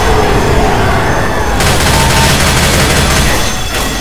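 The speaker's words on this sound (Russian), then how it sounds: "Граната, ложись!" A Left 4 Dead grenade explosion and rapid gunfire roar together, a loud, dense burst of shots and booms up close, with a sharp blast partway through.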